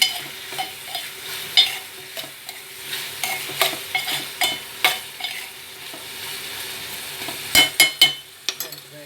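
Turmeric being stirred into a frying ridge gourd and dried shrimp curry, with repeated loud scraping strokes of a spoon against the pan over a continuous sizzle, the stirring coming in irregular bursts close up.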